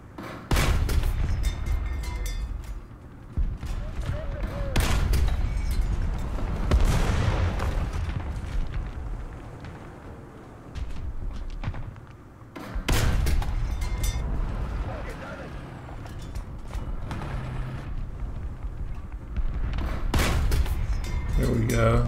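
Heavy tank cannon shots in the War Thunder video game land as repeated loud booms with rolling rumble between them and a constant low engine drone in the background.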